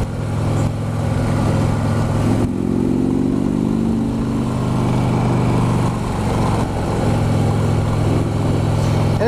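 Ride on a 2016 Harley-Davidson Road King with a six-speed transmission, its engine droning steadily and loud throughout, with a rising rev partway through and a constant rumble without talk.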